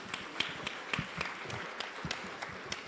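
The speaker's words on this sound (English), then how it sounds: "Ooh, clapping." A small crowd in a church service claps steadily, a scattering of hand claps with no one speaking.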